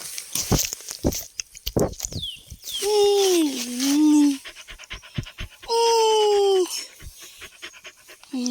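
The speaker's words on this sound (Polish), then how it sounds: "piesek powoli biegnie, ale zmachany jest" A small dog, worn out from running after a thrown ring, pants in quick, close, rhythmic breaths, broken by a few long high whistling tones.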